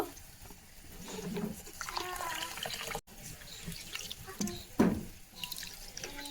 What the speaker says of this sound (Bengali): এখন চালটাকে খুব ভালোভাবে ধুয়ে নেব